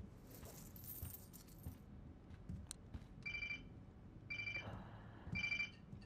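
Keys jangle in the video game Life Is Strange, a few short metallic bursts of ringing chime-like jingles repeating in a quiet indoor scene with low background rumble, no talking.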